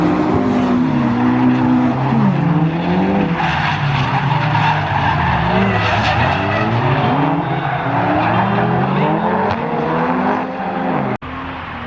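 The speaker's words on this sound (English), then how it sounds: "How good is drifting?" A Nissan S13 with an SR20DET engine drifting with loud, sustained tire squeal and skidding over a roaring engine whose pitch rises and falls, close and continuous, ending abruptly.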